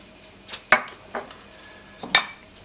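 Minced garlic and cumin are mixed in a pan, producing a few distinct metallic clinks of a utensil against cookware spaced over a couple of seconds, close and moderately loud, with no talk.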